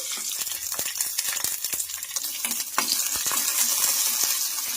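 Chillies, garlic and ginger sizzle in hot oil in a pan, a steady crackling hiss that grows slightly louder. A spoon stirs with scattered clinks and scrapes against the metal. No one speaks.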